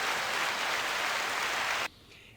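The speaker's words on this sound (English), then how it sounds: "But A round of applause for Mason." Steady broadband applause from a crowd on a wrestling-weekend podcast, a dense even wash of clapping that carries loud and sustained for nearly two seconds before cutting off abruptly into quiet.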